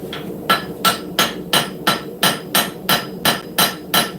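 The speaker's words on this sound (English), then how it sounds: "So whenever I hammer," A hammer strikes knife steel on an anvil while forging a camp knife, about nine sharp, evenly spaced blows in a steady rhythm, close and loud, without heavy ringing.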